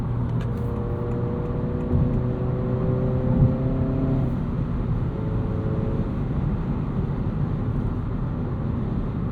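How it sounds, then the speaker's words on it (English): A 2025 Honda Civic Si with 6-speed manual in sport mode, its piped-in engine sound droning steadily inside the cabin, with a rising, shifting engine tone around a gear change partway through, continuous and moderately loud. "Hear a bit of that piped in noise while we're in sport mode here."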